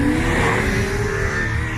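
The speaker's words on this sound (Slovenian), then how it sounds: "V tem trenutku recimo so na pisti Formula študent" A Formula Student race car drives on a track at a car meet, its engine droning steadily and loudly throughout with a constant, fairly close roar.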